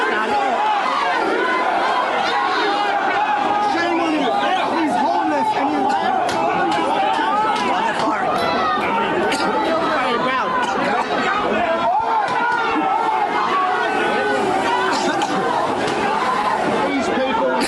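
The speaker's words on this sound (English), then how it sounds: "The crowd is now starting to disperse." A large protest crowd in Australia disperses after police deploy pepper spray, with loud, continuous babble of many voices and shouts filling the scene throughout.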